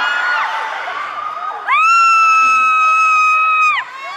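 Crowd at a free Children's Day concert at The Paseo Town in Bangkok screaming and cheering, a steady roar that swells into loud, sustained high-pitched shrieks for about two seconds before easing back.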